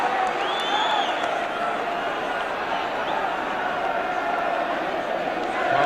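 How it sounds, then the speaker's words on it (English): A home football crowd at a Chelsea match in 1983 keeps up loud, steady cheering and chanting that swells slightly at the end, with whistles and shouts rising above the general roar. "this home crowd getting behind Chelsea like the good old days"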